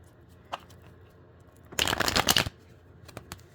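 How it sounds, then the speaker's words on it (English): A Mermaid tarot card deck shuffled by hand, a dense riffling burst of about three-quarters of a second, with a few lighter card flicks before and after. "I am going to shuffle the deck"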